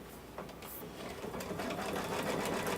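Sewing machine stitching a reverse appliqué, a steady close mechanical whir that builds slightly in loudness and runs without talk.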